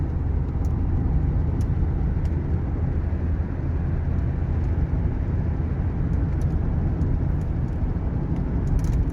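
A 1989 Lincoln Town Car Signature Series cruising on a dusty rural road, with steady low engine and road rumble and a constant broadband wind rush throughout, no talking.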